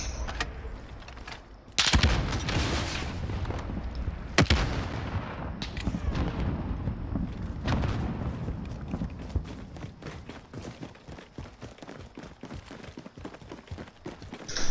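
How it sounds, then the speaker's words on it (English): A rocket fires and explodes in a video game: sharp booming blasts near the start and again a few seconds later, each followed by a rolling rumble. Steady background battle noise continues throughout. "Rocket away!"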